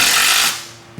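A power tool runs in a brief whirring burst while tightening bolts, stopping after about half a second, followed by a short metallic clunk.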